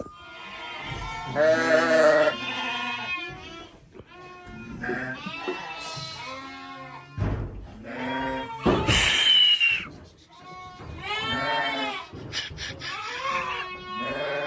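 Sheep and lambs bleat repeatedly nearby in deep snow, overlapping calls of varying pitch, some loud and close, with occasional rustling in between.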